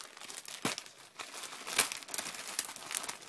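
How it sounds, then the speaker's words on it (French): Gift wrapping paper crinkles and rustles as a present is unwrapped close by, with irregular crisp crackles and a few sharper tears throughout, and no speech. "je suis désolée, le bruit du papier"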